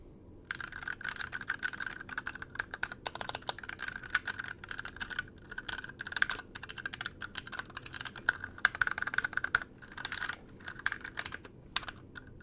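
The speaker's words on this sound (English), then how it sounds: "typing." Rapid, uneven clacking from tactile switches on a 60% mechanical keyboard, continuous close-up keystrokes with bursts of faster strikes over a faint background hiss, no voice.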